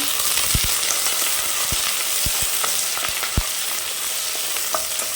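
Small and large onions sautéing in a pan for mushroom biryani, a loud, constant sizzle broken by scattered clicks and scrapes of stirring, with no talk.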